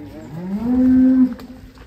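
A cow that is still nursing her roughly ten-month-old calf in a cattle pen gives one loud, rising low moo lasting about a second, close by, with no talk over it.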